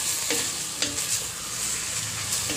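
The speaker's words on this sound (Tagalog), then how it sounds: "Gigisa lang natin to ng mga ilang minuto." Meat sizzles while being sautéed for Bicol-style dinuguan, with a soft, continuous fry under a few light scraping stirs.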